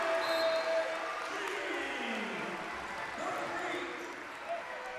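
At a high school varsity boys basketball game between Greenville and Byron Center, a gym crowd cheers loudly and steadily, with sneaker squeaks and a bouncing ball, and a commentator talks over it.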